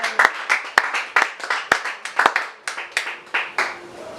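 A church congregation claps in praise of the Lord, with sharp, rhythmic, fairly steady handclaps repeating close by, with no voices cheering over them.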